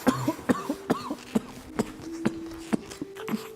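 Repeated gagging and coughing from a person, a series of short harsh bursts with retching sounds between them, close and fairly loud.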